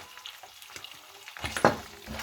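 Spices being stirred into food in a pan for a romantic dinner spread, with soft scraping stir strokes over a low sizzle, rising to a sharper clatter near the end.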